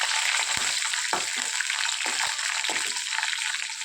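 Curry leaves and crushed garlic fry in hot oil as a tempering for palak dal, giving a loud, continuous sizzle broken by several short stirring knocks and scrapes.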